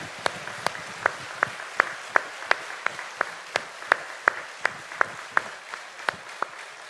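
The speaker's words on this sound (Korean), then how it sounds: "하나님께 영광의 박수를 크게 올려드렸으면" A church congregation at a Korean Sunday worship service claps together in a steady, evenly spaced rhythm, crisp hand strikes ringing through the sanctuary for several seconds with no talking.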